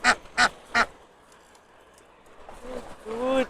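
A duck quacks three times in quick, loud succession, then after a quiet pause a person speaks nearby.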